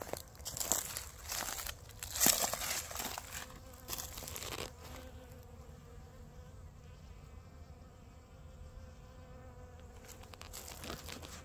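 Honey bees robbing a single backyard beehive buzz steadily at close range, a dense continuous insect drone with a few louder crinkling knocks early on, no voices.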